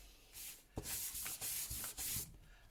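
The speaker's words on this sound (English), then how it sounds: "Distress ink in the Walnut Stain, and I'm going to do the same thing, and I'm just going to rub some age lines" Walnut Stain Distress ink is rubbed onto a paper journal page in several close, soft, hissing strokes, each a steady rasping sweep with short pauses between.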